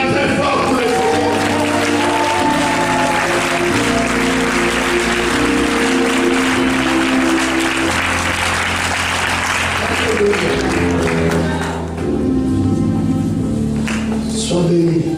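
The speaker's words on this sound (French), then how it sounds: "Si tu es là, acclame très fort pour le Seigneur." A church congregation at a covenant-day service applauds and cheers loudly for the Lord, with sustained dense clapping and crowd noise over music, a brief dip near the end before the cheering resumes.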